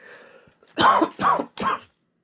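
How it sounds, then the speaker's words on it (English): Three sharp coughs in quick succession, close and loud, after a brief faint murmur, then silence. "I'm going to cough because my throat is so dry."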